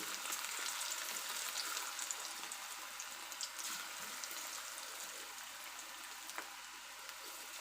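Onion pakoda fritters deep-frying in hot oil, a steady, dense crackling sizzle that holds for the whole stretch with a few louder pops, close and alone with no talk.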